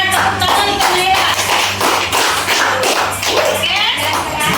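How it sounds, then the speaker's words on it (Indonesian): Children in a sixth-grade classroom clap their hands together in a brisk round of applause, close and busy, mixed with voices chattering and a steady low hum underneath. "Tepuk tangan untuk Naila."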